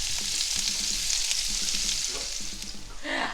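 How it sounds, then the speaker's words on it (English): A small onion frying with garlic in hot bacon fat, a bright steady sizzle close up with a faint pulsing background underneath and light stirring toward the end, without any talking. "I am going to add 1 small onion to that garlic to that fat from the bacon"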